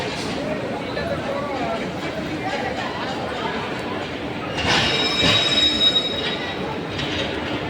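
A train at Sealdah railway station, Kolkata, rumbles steadily with a sharp metallic wheel squeal rising midway, amid busy station chatter and background voices.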